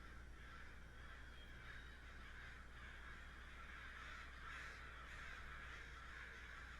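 Loud crows caw repeatedly in a noisy outdoor ambience in the video game Three Fourths Home, their harsh calls rising over a steady background hiss.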